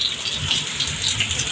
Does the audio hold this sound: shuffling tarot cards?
no